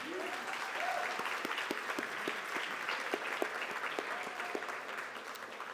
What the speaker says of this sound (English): Can we get a round of applause for all of our sponsors?